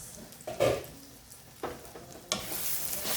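Okra cooks in a covered pan, giving a quiet frying sizzle broken by a few brief louder bursts of clatter and spattering, with a steadier hiss toward the end.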